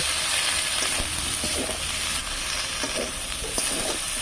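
Leafy greens being stirred into a fried spice paste in a pan, a continuous close sizzle with repeated scraping and clinking of the spoon, no voices.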